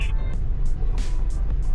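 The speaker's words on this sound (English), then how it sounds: "There's cars. I'm gonna wait for them to go." Cars pass by on a road close at hand, a steady hum of engines and tyres broken by brief whooshes.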